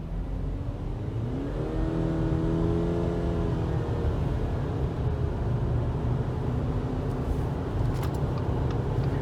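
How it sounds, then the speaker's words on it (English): A 2020 Subaru Forester e-BOXER hybrid accelerates while merging onto a fast road, a steady engine hum with a rising drone and wind and tyre noise, heard from inside the cabin with no talking. "Here you can see I'm merging to highway"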